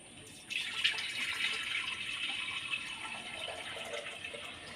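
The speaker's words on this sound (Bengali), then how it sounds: "এবার আমি একটি কুকার নিয়ে নিয়েছি এবার পরিমাণ মতো জল দিয়ে দেব" Water pours steadily into a pressure cooker in a home kitchen, a continuous splashing stream that starts abruptly and runs on for several seconds with no talking.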